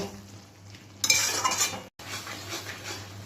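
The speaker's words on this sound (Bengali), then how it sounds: "দিয়ে সব কটা জিনিস এবার যতক্ষণ তেল ছাড়বে না ততক্ষণ আমি এটাকে কষিয়ে নেব" Tomato, potato and spices for mutton ghugni being sautéed in a pan, heard as close metal clinks and scraping of a utensil, with a louder burst of activity midway and a brief gap before quieter stirring resumes.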